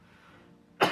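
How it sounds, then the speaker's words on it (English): A single sharp, close cough bursts out at the end of a quiet stretch, during a tabletop role-playing campaign session. "this cough's getting annoying"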